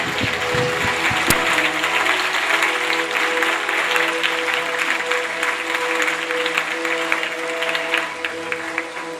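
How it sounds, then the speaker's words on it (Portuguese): A church congregation applauds during a sermon, a loud, dense, sustained ovation of many hands filling the whole stretch without a break. "Vamos aplaudir o Senhor Jesus"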